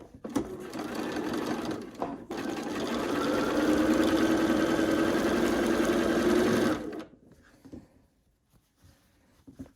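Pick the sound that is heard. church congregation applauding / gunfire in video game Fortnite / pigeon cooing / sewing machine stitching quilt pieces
sewing machine stitching quilt pieces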